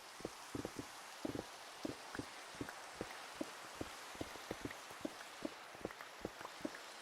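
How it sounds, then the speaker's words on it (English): Rain falls in the Minecraft video game, a soft steady hiss dotted with many irregular, distinct droplet taps across the whole stretch, quiet and alone without voices. "Oh, I'm getting rained on."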